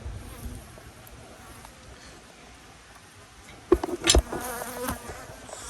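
Honeybees of the Rosemary colony buzz steadily around an open hive during an inspection, a close, persistent drone with individual bees flying near, then louder clunks and rustling as frames are handled.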